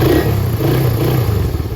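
Raider 150 carbureted motorcycle engine revving close by after an oil change, a loud, steady rumbling idle with slight rises in pitch, heard alone without talk.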